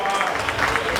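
A crowd at a stage performance claps in dense, steady applause for the artist, loud and continuous.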